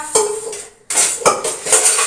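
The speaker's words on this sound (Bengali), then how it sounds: "হাঁড়িটা মেজে দিচ্ছি" Cooking pot being scrubbed clean in a home kitchen, quick clattering scrapes and metallic knocks in short bursts with a brief pause, close and loud.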